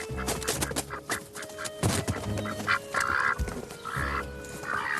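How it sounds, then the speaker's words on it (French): Fattened farm ducks, a male and a female, let out bursts of nasal quacking in a vegetable garden, close and irregular, mixed with scuffling and movement noises. "Je vais introduire dans mon jardin maraîcher les habitants les plus gourmands de la ferme. Des canards engraissés."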